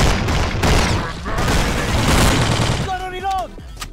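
Gunfire aimed at the player in the video game El Matador rattles in loud bursts for about three seconds, then gives way to a brief tonal effect.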